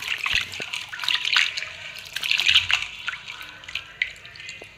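Cut amaranth stalk pieces are washed in water for a curry, giving a steady splashing and trickling with small drips and rustles, close and moderately loud, with no talking.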